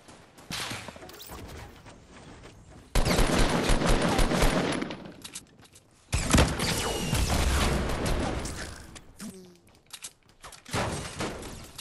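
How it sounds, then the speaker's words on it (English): Dense bursts of automatic and rapid gunfire in a Fortnite match at Tilted Towers, loud and sustained in several waves, with a voice talking over the shooting. "Where am I getting shot from?"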